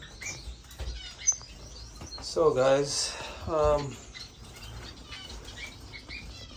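Society finches in an indoor bird room, with quick bursts of wing flapping and light chirps and tweets scattered throughout, close by, while someone speaks briefly at the start.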